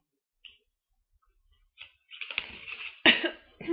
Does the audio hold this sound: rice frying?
no